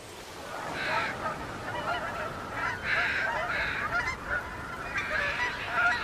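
Geese honk repeatedly among other water birds gathering on the Mississippi River, a loose chorus of overlapping calls in irregular bursts, moderately distant against outdoor background noise, with no talking.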